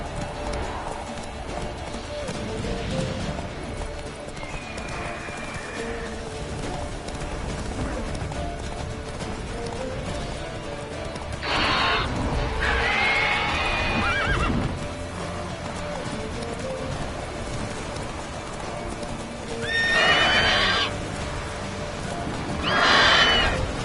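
A horse galloping and neighing in The Witcher 3: Wild Hunt, with loud whinnies bursting out twice over continuous clip-clopping hooves during a chase, and a voice speaking briefly.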